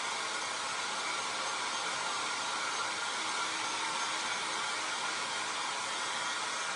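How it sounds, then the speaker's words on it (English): Steady, loud whooshing roar of a hair dryer blowing continuously, close by, with no talking. "Can you hear the air dryer?"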